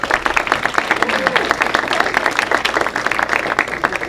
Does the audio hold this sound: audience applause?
yes